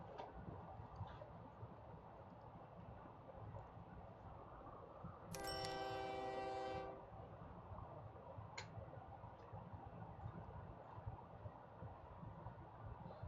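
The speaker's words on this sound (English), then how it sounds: "Oh, there's the train there" A passing train in a video game, heard as a brief burst of rhythmic metallic clattering and ringing that rises out of steady ambient game noise for about a second and a half, then fades.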